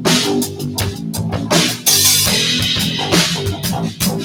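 Live polymeter rhythm, a loud, steady run of layered percussive hits over sustained pitched tones, played continuously without pauses.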